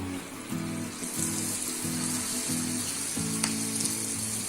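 Batter-coated leaves for pakoda sizzle and crackle in hot oil, a continuous close frying hiss with bubbling, pulsing bursts throughout.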